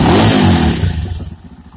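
A Rato Esquire 250 motorcycle engine revving loudly up close, a dense high roar that drops away after about a second into a lower, pulsing idle chug, with no talking.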